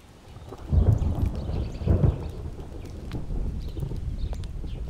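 Rain falls steadily with two heavy rumbles of thunder close together near the start, then a softer continuous downpour.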